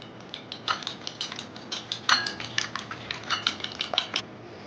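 An egg is whisked with mixed herbs in a bowl for potato egg kababs, giving rapid, close clinks of a utensil against the bowl in an irregular, busy rhythm.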